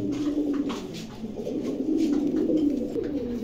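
Pakistani pigeons, red-necked birds from Khulna, cooing steadily in a low, continuous murmur at moderate distance, with no speech over it.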